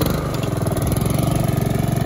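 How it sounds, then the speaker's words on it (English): Honda HRX 217 HYA walk-behind lawn mower engine running at raised speed, a loud close steady buzzing drone with a fast regular pulse. "So turn your engine speed up there, make sure you have gas in there"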